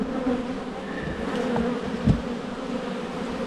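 Honeybees swarm around an opened hive during an inspection, a steady close buzz with a low hum and occasional louder passes of individual bees, with no voices.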